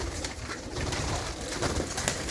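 Teddy pigeons in a loft give a soft, low cooing amid dense, steady background noise, a few faint coos repeating without talk.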